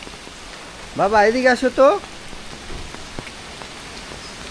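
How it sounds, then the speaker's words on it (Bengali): Heavy rain in a village during strong wind makes a steady, dense patter that fills the whole clip. A person's voice calls out briefly near the start over the downpour. "এ দেখো কেমন বৃষ্টি, বাতাস ছেড়ে দিছে বাবা, প্রচুর বাতাস ছেড়ে দিছে"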